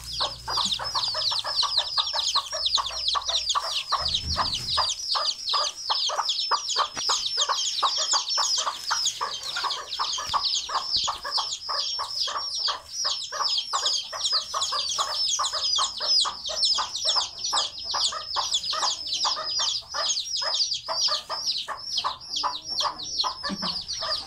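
A flock of hens near a large henhouse clucks continuously and busily up close, a dense, rapid chatter of overlapping clucks throughout.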